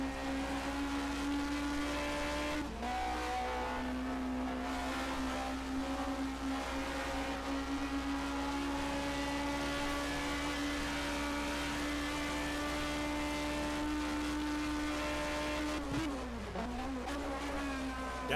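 A 1980 DRM Division 2 race car at the ADAC-Preis von Baden-Württemberg drones loudly and steadily for the whole stretch, its engine note holding a strong tone with brief dips as it downshifts, near and constant without speech.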